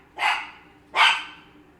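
A small dog gives two sharp, close barks about three quarters of a second apart, with near silence in between.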